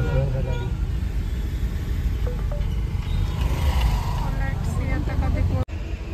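Traffic jam on a mountain ghat road between Badlapur and Pune, idling and slowly moving vehicles nearby, a continuous engine rumble with occasional horn-like tones and talking in the background.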